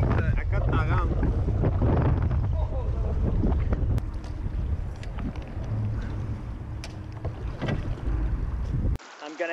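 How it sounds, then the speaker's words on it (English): Strong wind buffeting the microphone outdoors beside a boat ramp while fishing, a loud, gusty rumble that rises and falls throughout and cuts off near the end, with voices talking underneath. "we're gonna see if the wind is gonna calm down or not"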